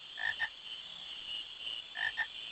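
Two quick double croaks from frogs in Final Fantasy IX, one at the start and one near the end, sit over a steady high-pitched ambient hum, soft and without speech.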